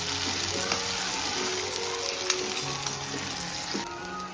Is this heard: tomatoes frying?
yes